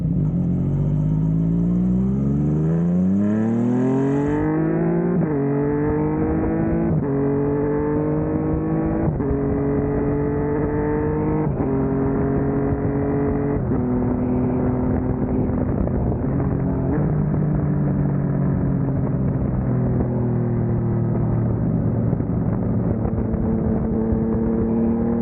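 A Yamaha MT-09 motorcycle fitted with an adapted quickshifter, riding and accelerating through repeated gear changes, engine tone rising then stepping down at each quick shift, steady and loud with no talk.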